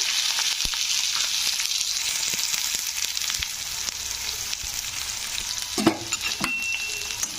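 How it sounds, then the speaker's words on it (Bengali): Onion dropped into hot oil with fried whole spices in a kadai, a loud continuous sizzle close up with occasional stirring clinks and a burst of spattering near the end. "তো দেখো মশলাগুলো ভাজা হয়ে গেছে তো এবার আমি পেঁয়াজটা দিয়ে দিলাম"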